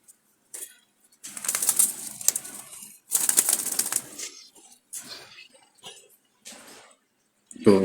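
Wild Jalali pigeons moving and flapping in a holding space: short bursts of wingbeats and feathery scuffling, close and fairly loud, separated by near-silent pauses.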